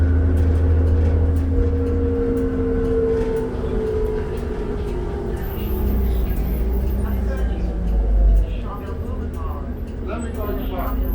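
A 2007 New Flyer D40LF diesel city bus rides along with a steady low engine rumble and rattling cabin noise that rises and falls, while people talk inside.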